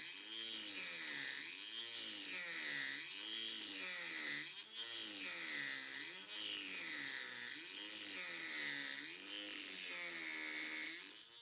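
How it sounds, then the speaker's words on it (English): A Dremel 3000 rotary tool fitted with a number 115 high-speed cutter grinds away window glazing, a steady high whine that rises and falls in regular sweeps as the cutter passes back and forth. "be using the Dremel 3000 and a number 115 high-speed cutter. Remove glazing with the cutter's sides, not the tip"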